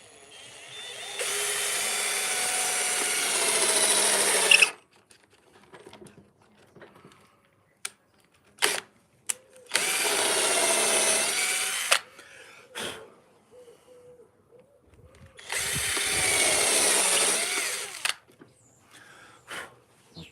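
A power drill whirs through wood in three long, steady bursts, each several seconds, separated by pauses with small knocks and clatter.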